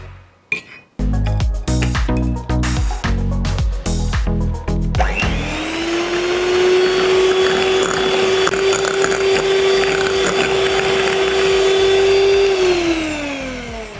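An electric mixer beats chocolate cake batter with oil at low speed, starting with clinks and rattles of beaters against the bowl, then settling into a steady loud whirring hum that winds down at the end.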